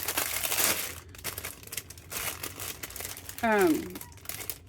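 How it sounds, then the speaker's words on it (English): Small paper envelopes crinkle and rustle as they are handled up close, with soft crumpling bursts spread through the clip and a brief tonal voice sound near the end. "I got these little envelopes. This might be annoying, or it might be ASMR to some people"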